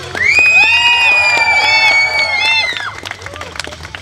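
Crowd cheering and whooping at an awards ceremony of the Skillz Up Cup 2011 competition, loud and sustained with many high shouts and scattered claps, then tapering off toward the end.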